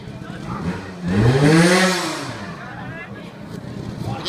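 A trial motorcycle at an indoor championship in Barzio revs hard, its engine note sweeping up to a loud peak and then falling away over a couple of seconds, with arena background noise around it.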